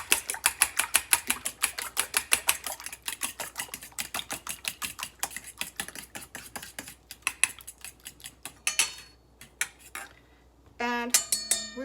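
Rapid, rhythmic clinking of a utensil beating eggs in a bowl, many quick strokes in a row, then a brief pause and a few final taps.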